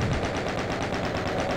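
Rapid automatic gunfire in the video game Doom II, a fast, even stream of repeated shots at a steady rhythm, loud and continuous for the whole span with no voices.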